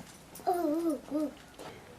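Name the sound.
child imitating a dog's bark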